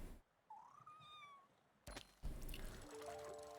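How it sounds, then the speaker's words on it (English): A cat in the Spiritfarer video game gives a short, faint meow that rises and falls, close and alone, followed by splashy water sounds and soft chiming tones. "Little meows."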